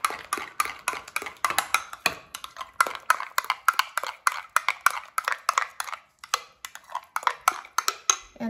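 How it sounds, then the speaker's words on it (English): Spicy kani salad dressing being stirred in a bowl, with a fast, steady run of close clinks and scrapes of utensil against the dish and brief pauses between strokes. "And mix it together to make a dressing."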